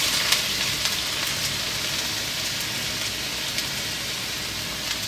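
Diced onion frying in hot olive oil in a pan, a steady close sizzle and crackle with a few brief pops, no talking.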